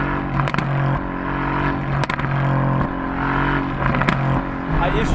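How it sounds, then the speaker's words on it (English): A 2018 Mercedes-AMG GT C Roadster's exhaust revving up close, loud steady engine drone broken by sharp blips and crackles several times over five seconds. "It's all about that exhaust sound."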